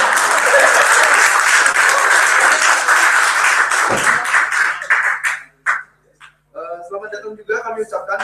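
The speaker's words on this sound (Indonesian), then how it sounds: "Tolong tepuk tangan." Audience applause at a Pecha Kucha evening hosted by Indonesian student groups in Edinburgh, a dense steady wash of clapping for about five seconds that thins out and stops, followed by scattered voices and talking.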